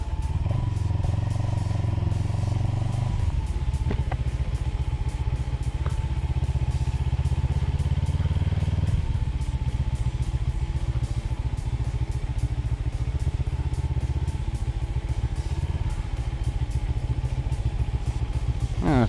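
A CF Moto CLX 700 motorcycle runs at close range with a steady engine drone and a throaty low rumble. The engine note shifts with a gear change early on and again near the middle, alongside some road and wind noise.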